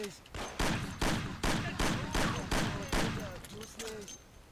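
Loud, close gunfire from the video game Mafia, about eight heavy shots in a steady rhythm, each one followed by a short decaying echo.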